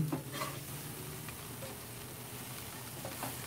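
Chicken vegetable chow mein stir-fries on a Blackstone flat top griddle, a quiet, even sizzle with faint scraping strokes of a spatula, no voices.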